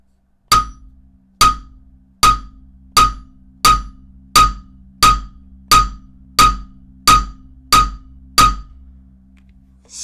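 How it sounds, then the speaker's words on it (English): Eleven sharp glassy hammer strikes on an Apple Watch Ultra glass screen protector land at a steady rhythm, each a crisp clinking knock with a short ringing tail, close and loud with no talking. "So we'll go ahead and move on to the hammer test."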